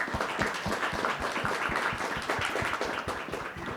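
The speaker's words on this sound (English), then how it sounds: "I want to give a huge thank you and a huge round of applause," Audience applause for panelists closing a panel discussion on industrial policy, a continuous, fairly loud burst of many hands clapping with distinct individual claps close by and no talk over it.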